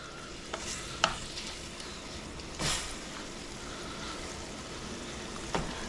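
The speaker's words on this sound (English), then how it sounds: "now that I have my liquid in there, I can kind of break my pork apart." Pulled pork being broken apart in simmering ragù liquid, a low steady bubbling sizzle with a few scattered scrapes and utensil knocks.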